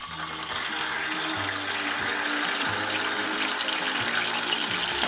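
Tocino, Filipino cured pork, bubbling and sizzling in a pan, a dense steady crackle with no talk over it, the mix also carrying some low tonal hum.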